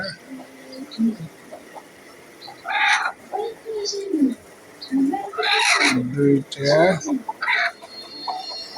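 Broody hen in a poultry coop giving low, throaty clucks and croaks in scattered bursts, close by, with a person speaking briefly at moments among the calls.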